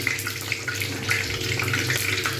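Beetroot luchi deep-frying in hot oil give off a loud, steady, close-up sizzle and bubbling hiss that continues without a break.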